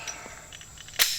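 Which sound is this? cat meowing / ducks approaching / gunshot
gunshot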